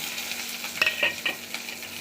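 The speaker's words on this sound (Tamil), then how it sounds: "வெங்காயம் ரொம்ப வதக்கணுங்கிறது இல்லை லேசாக வதக்கினாலே போதும்" Onions sauté in a little oil with mustard seeds and urad dal in a pan, a steady soft sizzle with a few brief stirring scrapes near the middle.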